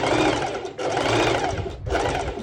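A sewing machine stitches bikini fabric close to the edge at a stitch length of 4, running in three steady bursts with short pauses between them, loud and alone.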